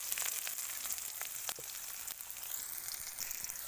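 Nigella seeds, three green chillies and chopped onion crackle and sizzle steadily in hot oil in a frying pan, a close, continuous spitting hiss with a few sharper pops and no talking.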